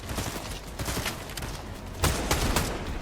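Dense video game gunshots crackle steadily throughout a shooting match, with rapid overlapping shots and a louder burst of fire near the end.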